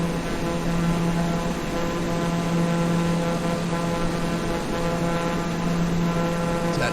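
A small plane's engine drones steadily during flight on a trip from Houston toward Lubbock, Texas, a constant close-up hum with a fixed pitch and no break or change in loudness.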